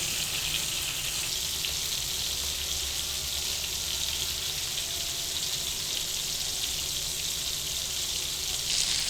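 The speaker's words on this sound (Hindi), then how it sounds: "मछली को हम लो फ्लेम पर एक साइड से 3 से 4 मिनट तक पकाएंगे।" Fish cooks on a tawa over a low flame, giving an even, continuous sizzling hiss that holds steady from start to finish with no voices.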